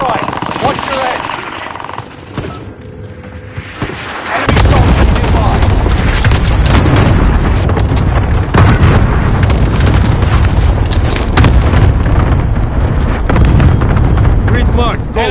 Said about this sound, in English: Enemy cluster strike. Watch your heads.